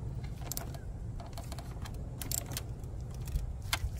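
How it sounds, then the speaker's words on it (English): Wrench work tightening the positive and negative terminal clamps on an Antigravity ATX-20-HD lithium battery in a Honda S2000 engine bay, giving close, scattered metallic clicks and ratcheting creaks over a steady low background hum, with no talking. "I'll just get these tightened down."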